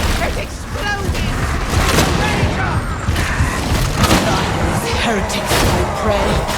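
Booming explosions and rapid gunfire in the Warhammer 40K Darktide Refinery Delta mission, with dense, chaotic blasts and clanks throughout while voices speak over the combat.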